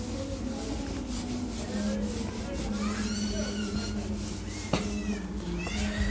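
A classroom board is wiped clean by rubbing, giving steady scratchy swishing strokes that run continuously at moderate volume, close by, with faint squeaky tones and one sharp knock partway through.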